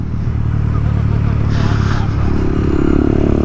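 A small moped scooter, fitted out with bits of aftermarket metal parts, rides past close by with a buzzy, steady engine drone that swells and holds over a few seconds amid traffic noise.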